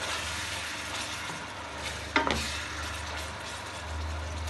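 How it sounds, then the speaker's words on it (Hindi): Meat for Hyderabadi haleem fries and sizzles in an open pot, with a steady low crackle and a brief scraping stir in the middle, heard near and without voices. "इस टाइम भूनते वक्त मैं खुले देगचे में इसको कर रही हूँ"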